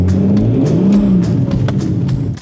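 Deep, loud engine roar from a roughly 1000 hp carbon-bodied BMW M4 driven on an open road, revving steadily and climbing in pitch with no talk over it.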